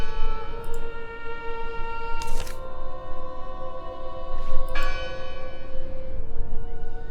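Church bell strikes ring out in the video game Draugen, two loud resonant clangs a couple of seconds apart whose long humming overtones linger over a steady rushing ambience.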